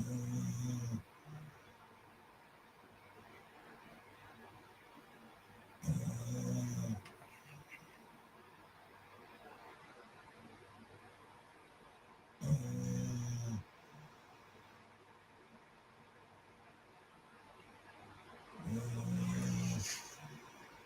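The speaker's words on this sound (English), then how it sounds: "She is snoring." A woman snoring in slow, regular loud breaths, four harsh rasping snores spaced about six seconds apart against a quiet room.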